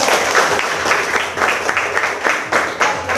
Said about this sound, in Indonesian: oke, tepuk tangan dulu semua.